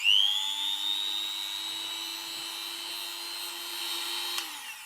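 An electric whisk whirs steadily through chocolate mousse mixture, a continuous close motor whine that holds an even pitch, then spins down near the end, with no voices.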